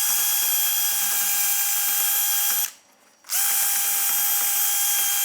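A wire wheel on a drill scrubs rust off the brake hub of a 2019 RAM 1500. It makes a loud, steady whirring grind, breaks off into near silence for about half a second, then starts up again.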